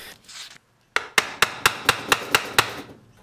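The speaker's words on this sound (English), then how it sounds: "I can tap those slightly high frets down with a fretting hammer" A fretting hammer taps guitar frets on an electric guitar neck, eight crisp, evenly spaced strikes close up, preceded by a faint scraping sound.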